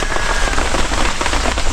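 Steady heavy rain pours onto a surface close by, a dense continuous patter and hiss with no gaps and no voices.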